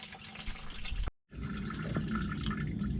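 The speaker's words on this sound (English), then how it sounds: "I've already cracked loose the fitting at the inlet filter. So I'm just going to let this drain" Fuel drains from a loosened inlet filter fitting on a Fox Mustang fuel system with a Holley 525lph pump, a steady close trickle and splash into a container, cut by a brief silent gap before resuming.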